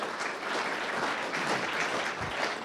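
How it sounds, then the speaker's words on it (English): An audience at an agriculture and food policy summit gives the guests a round of applause, a brief, fairly faint wash of steady clapping heard from a distance. "Please give our guests a well-deserved round of applause."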